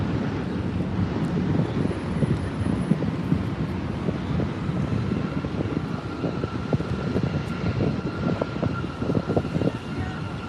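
Heavy airliners landing and taking off at LAX produce a continuous, deep roar of jet engines mixed with wind buffeting the microphone, steady and fairly loud throughout with no voices.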